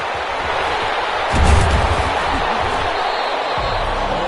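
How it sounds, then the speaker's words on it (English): Crowd in a PS4 American football game, a steady loud roar of stadium noise with a brief swell of cheering, heard under a commentator's talk. "How about some applause for the defense there?"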